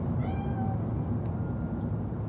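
A cat in the video game Cyberpunk 2077 gives one short, clear meow near the start, then the rest is a steady low, rumbling game ambience with no further calls.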